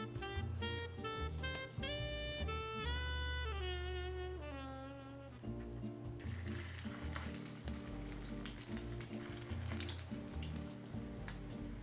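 Knishes frying in a pan, heard as a dense, crackling sizzle that grows stronger through the second half, while background music plays melodic tones in the first half.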